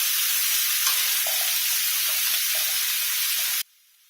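Chopped cabbage stirred in a hot pan for pav bhaji, a steady loud sizzle and hiss with faint scraping stirs, continuous until it cuts off abruptly near the end.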